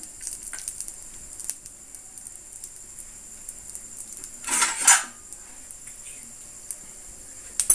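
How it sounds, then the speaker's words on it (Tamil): A spoon stirs urad dal and chana dal dry-roasting in a pan over medium heat, giving faint scattered scrapes and clinks with one louder scraping rustle midway, no talk. "நல்லா கிளறிக்கிட்டே இருங்க ஸ்டவ்வை வந்து மீடியமாக வச்சுக்கோங்க"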